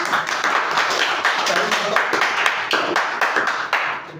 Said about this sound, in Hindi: चलिए इनके लिए एक शुभकामना, ताली बजाएंगे।